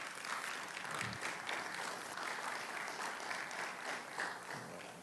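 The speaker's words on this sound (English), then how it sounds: "So clap it up for Mylika as she is coming to share with us" Applause for a guest speaker at a business forum, a faint, even wash of many hands clapping that holds steady for about five seconds.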